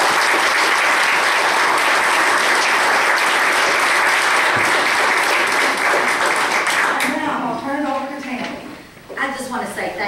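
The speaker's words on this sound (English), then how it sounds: "let's give her a big round of applause" Strong, sustained applause fills a county fiscal court meeting room, close and dense for several seconds before tapering off as a voice begins speaking.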